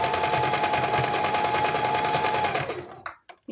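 A sewing machine stitches a pocket in a fast, even, loud run that lasts almost three seconds, then slows and stops, followed by a few short handling noises.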